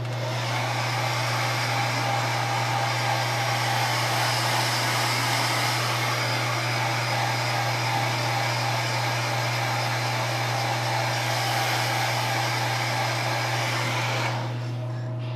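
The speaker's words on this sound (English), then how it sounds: "If you want to speed it up, hit it with a blow dryer." Hair blow dryer drying paint on a custom statue, a steady loud whirring motor hum with airy rushing noise running continuously for about fourteen seconds before switching off near the end.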